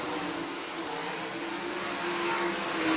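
Sprint cars roar around I-96 Speedway dirt oval on the final lap of a Great Lakes Super Sprints race. Dense, continuous engine noise blurs together and swells slightly as the pack passes.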